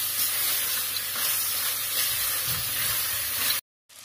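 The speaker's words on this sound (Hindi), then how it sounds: "अब इसको हमने हाई हीट पर 1 से 2 मिनट के लिए अच्छी तरह से भून लेना है इन स्पाइसेस के साथ ही।" Mutton fries with powdered spices over high heat, a loud, steady close hiss and sizzle that runs without pause and cuts off abruptly near the end.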